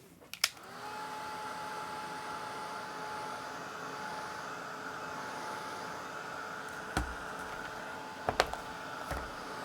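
A hair dryer blows steadily on a wet watercolour painting in a classroom, a loud continuous whir with a humming tone that runs the whole time, broken by a few small knocks near the start and end.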